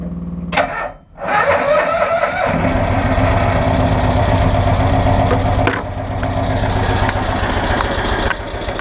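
An engine with a bad starter solenoid cranks, catches and settles into a steady, slightly uneven idle, close and continuous.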